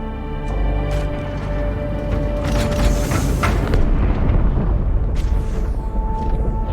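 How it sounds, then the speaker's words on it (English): Explosion aboard the ship Athens in the video game Halo 2 Anniversary, a heavy sustained booming rumble with a brighter crackling burst in the middle, loud and close with no talking. "That explosion came from inside the Athens, same as the Malta."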